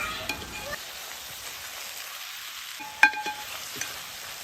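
Chicken biryani masala topped with chopped coriander and mint stirred in a pot, a soft steady sizzle with a few faint spoon scrapes and one sharper clink near the end, no voices.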